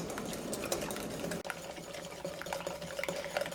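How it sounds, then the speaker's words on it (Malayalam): A whisk or spoon beats eggs and sugar together in a bowl for bread pudding, giving soft, quick, rhythmic clicking and scraping close by at low volume with no voices. "ഒരു വിസ്ക് വെച്ചിട്ടോ അല്ലെങ്കിൽ ഒരു സ്പൂൺ വെച്ചിട്ട് ബീറ്റ് ചെയ്തെടുത്താലും മതി"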